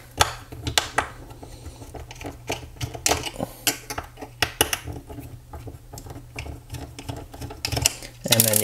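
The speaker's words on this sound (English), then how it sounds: "with a long neck Phillips screwdriver, I'm just gonna do the same thing, go ahead and stick it down each of these holes and just loosen those screws" A long-neck Phillips screwdriver loosens the screws of a Nintendo Switch, making a steady run of sharp metallic clicks and small rattles close by, with faint speech underneath.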